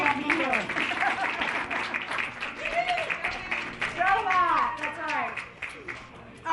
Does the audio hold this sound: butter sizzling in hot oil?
no